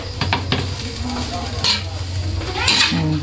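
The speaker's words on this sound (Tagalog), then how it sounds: "Haluin natin." Food stirred in a pan while it fries, several quick scraping strokes over a constant background sizzle, close and steady.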